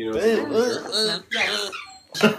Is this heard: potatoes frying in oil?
no